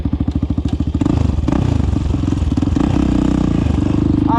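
A KTM supermoto motorcycle's engine revs hard and close, its rapid popping exhaust pulses climbing through the gears as it accelerates, loud and steady with no talk over it.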